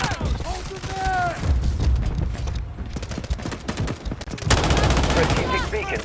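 Gunfire from the Delta Force Mobile video game rattles in rapid bursts and scattered shots, loud and close, mixed with voices calling out in the middle of the battle.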